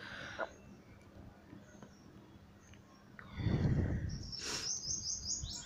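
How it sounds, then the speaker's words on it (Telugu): Pet birds chirp near a home kitchen while cooking goes on, with short, high chirps in the latter half over faint background noise and a brief burst of clatter. "చూసారా మా పక్షులు ఎలా అరుస్తున్నాయో,"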